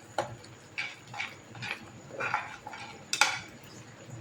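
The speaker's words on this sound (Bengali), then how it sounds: "একটু নেড়ে দিচ্ছি, নাহলে ভাতটা দলা হয়ে যাবে" A spoon stirs rice with bay leaves in a pot, making a quiet series of about six or seven separate scraping knocks against the metal at an uneven rhythm, with one sharper clink near the end and no talking.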